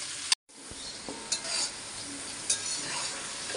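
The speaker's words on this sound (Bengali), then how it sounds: "এই যে এইভাবে আমি ভাজবো, হালকা, বেশি ভাজা দিব না।" Taro stolons (loti) frying plain in a pan with no salt or turmeric, a steady close sizzle broken by a few stirring scrapes and clinks, with a brief dropout near the start.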